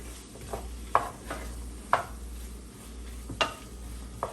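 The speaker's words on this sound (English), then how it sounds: "Gonna stir." Chopped scallions are stirred in a pan with dissolving Maggi vegetable cubes: several separate scraping strokes at an irregular pace, close and moderately loud, over a steady low sizzle.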